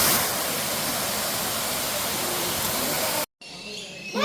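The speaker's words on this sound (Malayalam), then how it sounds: "ഇവിടെ ഒരു വെള്ളച്ചാട്ടമുണ്ട്." A waterfall in the bird park area of Ramoji Film City, Hyderabad, gives a steady, dense rushing roar for about three seconds, then cuts off abruptly into a quieter outdoor background.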